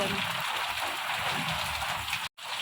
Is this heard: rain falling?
yes